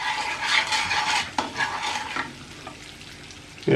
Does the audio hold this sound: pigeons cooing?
no